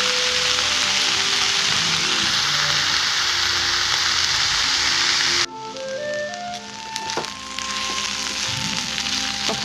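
Jackfruit seed, banana stem and chickpea bhaji fries in a pan with a dense, steady sizzle that cuts off abruptly partway through, leaving quieter kitchen clatter and faint tones.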